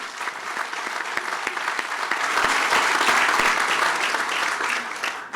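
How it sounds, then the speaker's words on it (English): An audience claps at a university engineering center dedication ceremony, a dense sustained round of applause that swells midway and holds, with no voices over it. "If we could give them a round of applause."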